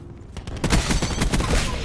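Rapid bursts of gunfire in Call of Duty: Black Ops 4 multiplayer, dense overlapping shots loud and close, cracking in a fast irregular rhythm for about two seconds with no talking.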